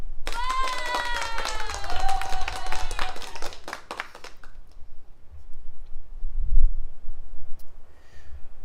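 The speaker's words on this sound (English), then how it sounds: "Applause." A burst of clapping from a crowd fades out into quieter room noise and a few scattered taps.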